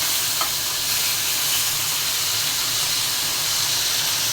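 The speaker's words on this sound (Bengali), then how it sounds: "একটু কড়া করেই ভেজে নেব" Fish pieces fry hard in hot oil in a pan, giving a steady dense sizzle and hiss that carries on evenly throughout, loud and close with no talking.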